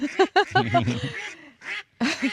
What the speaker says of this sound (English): Obviously not native to New Zealand, the mallard.